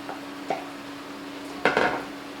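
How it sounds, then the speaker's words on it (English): Tomatillos go into a pan of cooking chili verde with pork, making a couple of short clatters and a louder utensil-and-pot scrape over a steady, faint background hum. "We are going to now add our tomatillos."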